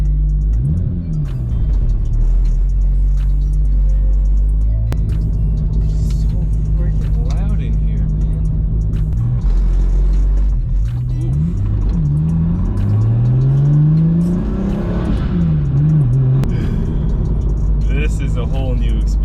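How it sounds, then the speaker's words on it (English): Single-turbo BMW 335i with N54 engine and solid motor mounts under way, a loud continuous engine drone with rising and falling revs and boost sweeps, heard from inside the cabin with someone talking over it. "You can hear everything, the clutch chatter, like the motor, everything."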